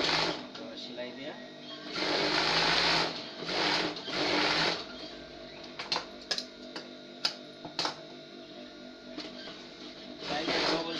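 A sewing machine runs in bursts while stitching a salwar with an elastic waistband, with steady whirring runs broken by sharp clicks and ticks between passes, close and clear, and a voice talks in between.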